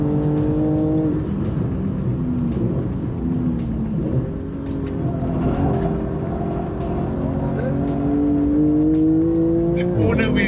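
A race car lapping a track, its engine loud and close throughout with steady drone and shifting pitch as it revs through corners, a brief squeal near the end, with voices talking over it.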